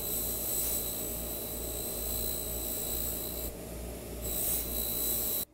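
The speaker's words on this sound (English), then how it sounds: "This wheel is this 3M wheel that has abrasives built into the plastic." A 3M plastic wheel with built-in abrasives buffs silver jewelry, producing a continuous high whine and rasping hum that briefly dips in pitch as the piece is pressed, then cuts off abruptly.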